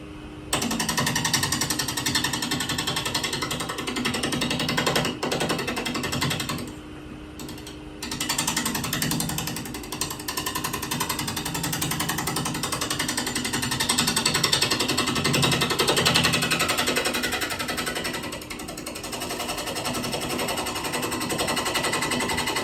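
A 1/2 inch gouge cuts an out-of-round wood blank on a lathe. The steady, harsh rattling chatter runs almost the whole time, loud and close, with a brief dip partway through.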